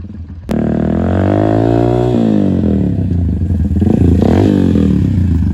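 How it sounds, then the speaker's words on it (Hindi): A racing motorcycle being ridden, its engine starting sharply and then holding a loud, steady drone with rising and falling revs, close to the microphone and with no talking over it. "अभी वो चला रहे हैं बाइक को।"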